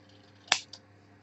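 Scissors snipping through paper ephemera, heard up close as one crisp cut followed a moment later by a smaller second snip, against a quiet room.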